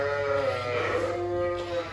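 Sheep and lambs bleat in a sheepfold, one long wavering bleat up close over a low steady hum of the barn, with no talking.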